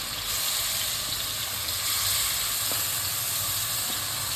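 Chopped onions hit a hot pan for a spicy chicken curry, giving a steady, loud hiss and sizzle that holds for a few seconds, with a couple of faint clicks near the end.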